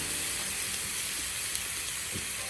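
Large shrimp searing on a Camp Chef FTG600 flat top griddle at 375 degrees, a steady, close, continuous sizzle and hiss with no talk.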